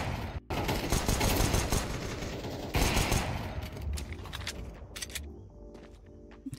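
Dense gunfire from a P250 pistol in Counter-Strike 2, a rapid flurry of loud close shots with game effects, continuing throughout and thinning slightly toward the end.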